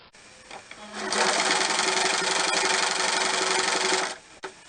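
A sewing machine stitches a thick nun's wimple collar, a loud steady motor whir with rapid needle chatter running for about three seconds, starting and stopping cleanly.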